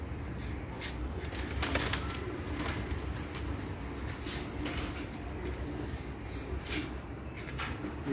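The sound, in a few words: pigeons cooing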